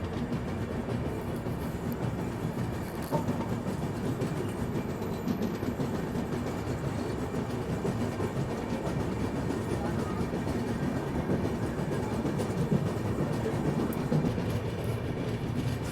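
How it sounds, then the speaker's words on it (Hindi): The Kolkata Humsafar Express runs through Bhopal Junction, heard from on board as a constant, close rumble and rattle of rolling railcars with faint clickety-clack over the rails. "भोपाल जंक्शन में फाइनली कामायनी एक्सप्रेस के आगे हम लोग निकल रहे हैं।"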